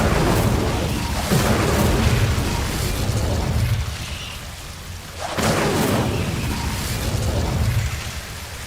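An Incendio fire spell cast in Hogwarts Legacy erupts as a loud roaring, crackling whoosh of flame that surges, fades, then flares up again in a second rushing burst, dense and close throughout.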